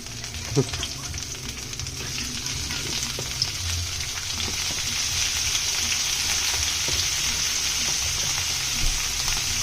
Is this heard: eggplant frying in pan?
yes